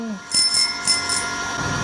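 A notification bell sound effect, a quick series of bright metallic rings, like a bicycle bell, heard up close against a background hum.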